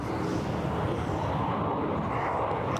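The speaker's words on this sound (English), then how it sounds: "Just like this freaking airplane." A small airplane drones overhead near a river, a steady, loud, broad engine rumble that fills the whole stretch with no talk.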